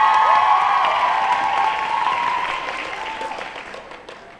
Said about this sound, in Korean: 큰 박수로 한번 시작해주세요